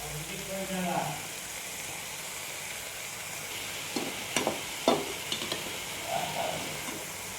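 Broad beans stir-fried in a pan, a steady hissing sizzle with a cluster of scraping utensil stirs in the middle, close, with a voice speaking faintly at moments.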